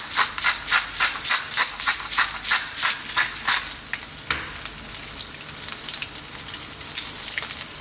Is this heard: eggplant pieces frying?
yes